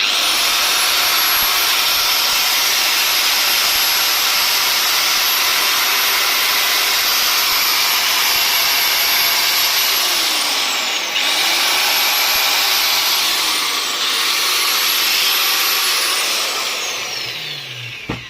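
Angle grinder whining at steady high speed after its gearbox was greased, a loud continuous motor tone that dips twice briefly and then winds down near the end.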